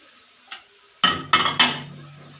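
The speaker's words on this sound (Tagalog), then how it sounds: "Isusunod ko nang ilalagay pala yung aking mga tilapia sa" Tilapia pieces are placed into a cooking pot, giving a faint tap followed by three quick, clattering knocks of fish and metal, close and fairly loud, then a low lingering ring, with no one talking.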